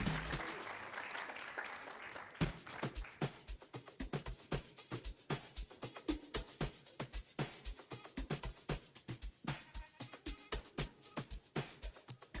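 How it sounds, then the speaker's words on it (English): At a Female Future Leadership Programme ceremony, an audience applauds an honoree. Sharp, distinct claps ring out close, building after a softer opening into a brisk, uneven rhythm that suggests a smaller crowd. "A round of applause for her."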